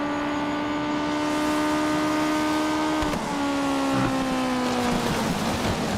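Racing car engine in a racing video game, a loud steady rev holding a sustained pitch, dipping briefly near the middle before resuming and tapering toward the end.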